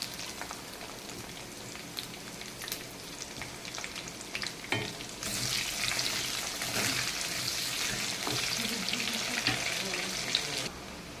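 Chopped onion fries in oil with bay leaves, dried chilli and other spices, a steady sizzling hiss that grows louder and brighter about halfway through, with scattered clinks and stirring scrapes and no one talking.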